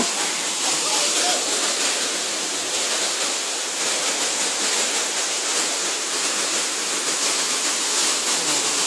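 The Khun Korn waterfall in Chiang Rai gives a constant, full rushing roar of falling water, loud and unbroken from start to finish.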